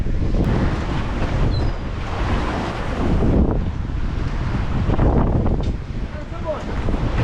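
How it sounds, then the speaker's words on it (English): Strong gusty wind buffets the microphone on a Great Lakes shoreline during a fishing outing, a loud continuous rumble that surges and eases, with water noise beneath it and no clear talk. "It's crazy windy."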